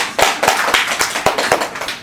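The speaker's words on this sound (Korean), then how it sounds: "박수" Worshippers at a Buddhist temple's Friday dharma service clap together in a steady unison rhythm, about four sharp claps per second, loud and close, with no talking.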